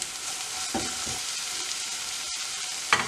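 Okra sautéing in a pan for a vendakkai paal curry gives a steady, close frying hiss, with a few soft stirring knocks and a sharper scrape near the end. Nobody speaks.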